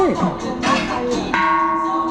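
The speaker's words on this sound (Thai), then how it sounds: "ระฆังไงดังขนาดนี้" Loud, bright bell strikes ring out in quick succession at Nong Nooch Garden in Pattaya, each tone sustaining and overlapping the next, close by.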